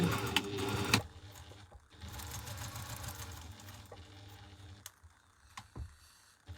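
A sewing machine runs a seam on the lining of a small crossbody bag, with a brief back stitch at the turning gap; a dense whirring stitching texture, loudest at the start, continues steadily at close range with short pauses and clicks.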